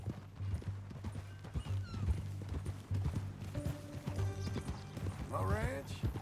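Horse hooves clip-clop in Red Dead Redemption 2, a steady rhythmic series of hoofbeats under a low drone, with a whinny rising near the end while people talk over it.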